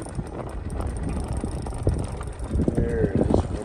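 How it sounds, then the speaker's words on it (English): Wind blows across McGregor Lake in Alberta during a fishing outing, a steady rushing buffet against the microphone with a few gusts and knocks. It continues for a few seconds with no one talking. "It's getting really windy"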